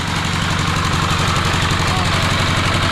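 Diesel engine pumping water to fill a fish pond, run at full throttle and slightly tilted, giving a loud, steady, close-up chugging drone with constant rumbling vibration throughout.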